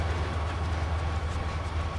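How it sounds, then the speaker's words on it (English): A train runs steadily in the Trainz 2022 simulator game, a continuous low rumbling drone with faint rhythmic rail clatter, heard alone without talk. "I'm having fun driving trains around."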